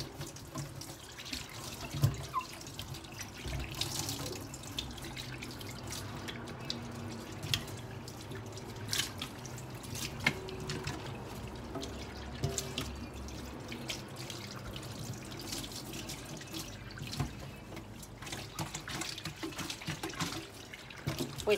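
Tap water running steadily into a kitchen sink during cleaning, a continuous splashing gush with occasional clinks and drips, close by, lasting the whole stretch without talk.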